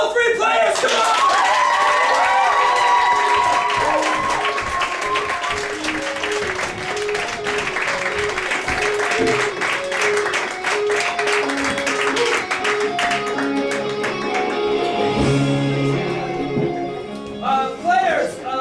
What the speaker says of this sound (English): you guys are going to applaud wildly when they come in